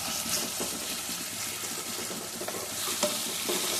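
Ground masala for goat trotter paya sizzles in a pan, a soft steady frying hiss with repeated light stirring scrapes and a few sharp taps.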